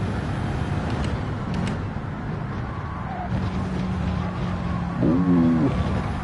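Racing video game Gran Turismo 7: a Subaru WRX engine drone runs steadily at Watkins Glen, with a short rising tire squeal near the end, loud and continuous with no talking.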